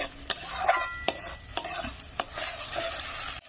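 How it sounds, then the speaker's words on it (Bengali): Two beaten eggs sizzle in a hot pan while a spatula stirs and scrapes them in quick, repeated strokes, close and fairly loud over a constant frying hiss. "এইভাবে ডিমটা এইভাবে ভাজতে হবে"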